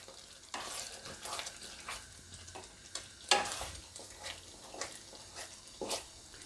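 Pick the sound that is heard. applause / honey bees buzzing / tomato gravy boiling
tomato gravy boiling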